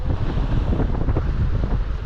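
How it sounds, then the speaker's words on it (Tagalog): Strong wind buffets the microphone on a small boat riding big waves in the West Philippine Sea. The dense, rumbling roar mixes gusts with sloshing water, close and loud, with no talking. "Ang lalaki ang alon ngayon, pero kaya lang to."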